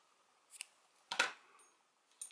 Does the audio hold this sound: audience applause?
no